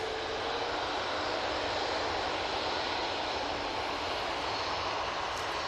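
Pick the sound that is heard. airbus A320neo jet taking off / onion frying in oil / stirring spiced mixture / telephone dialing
airbus A320neo jet taking off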